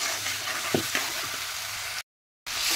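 Boiled green banana is stirred into oily fried spice paste in a pan, a steady close sizzle with a few soft scraping strokes, broken by a brief dead-silent gap near the end.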